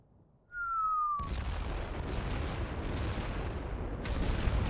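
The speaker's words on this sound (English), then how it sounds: "And there go the mortars." Mortar fire in The Great War: Western Front: a falling whistle, then a sudden loud boom rolling into sustained rumbling explosions and battle noise, heavy and continuous.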